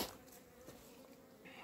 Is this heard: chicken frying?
no